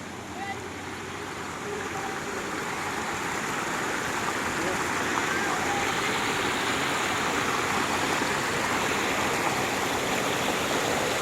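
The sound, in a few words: flowing river current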